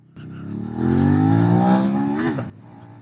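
A Suzuki SV 650 motorcycle pulls away hard from close range, its engine note climbing steadily in pitch as it accelerates for about two seconds, then cutting back abruptly to a low idle-like hum.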